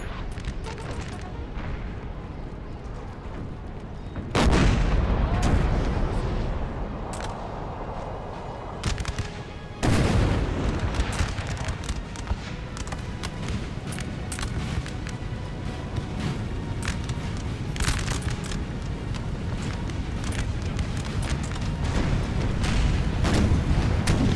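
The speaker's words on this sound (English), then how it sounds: "Cav's artillery strike." An artillery strike in the Napoleon Total War video game rumbles as sustained loud battle noise, with heavy booms and rapid cracking gunfire layered over each other, with sharp surges around the middle of the clip.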